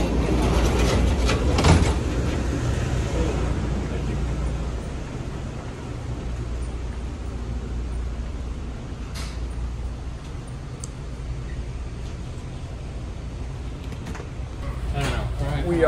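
Steady rumble of an MBTA Cape Flyer passenger train running on rails, loud and continuous with a brief louder swell near the start, while people talk throughout.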